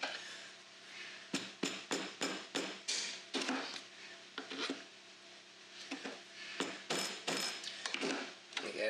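Sharp, repeated knocks in an irregular rhythm, close up, with a rubbing scrape in a pause midway before the strikes resume.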